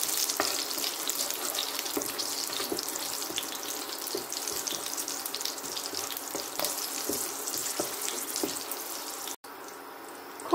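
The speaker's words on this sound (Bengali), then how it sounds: "দুটো শুকনো লঙ্কা, 2টি কাঁচা লঙ্কা দিয়ে খুব ভালো করে নাড়াচাড়া করব।" Dried red and green chilies stirred in a hot frying pan for a snake gourd and mung dish, with a continuous loud sizzle and scraping of a spatula, ending abruptly in quieter background.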